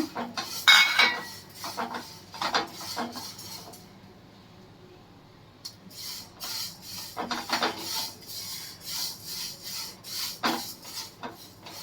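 Two spoonfuls of fenugreek seeds go into a pan for curry leaf spice powder, with scraping, rattling metal and spoon contact in uneven bursts and a brief quiet gap partway through.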